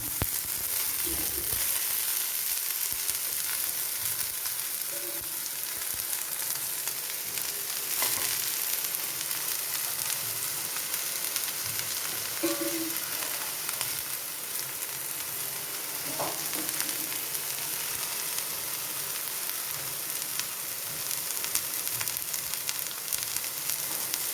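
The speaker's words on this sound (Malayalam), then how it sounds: "ഇതിലേക്ക് അരിഞ്ഞു വച്ചിരിക്കുന്ന മത്തയില ചേർത്ത് കൊടുക്കാം" Chopped fenugreek leaves sauté in a pan, giving a soft, continuous sizzle with a few faint stirring clinks throughout.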